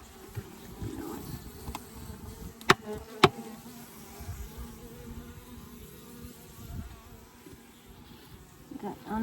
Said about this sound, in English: just to get rid of these bees that are on this frame, push them down